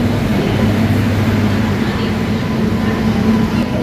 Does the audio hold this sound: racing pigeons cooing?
no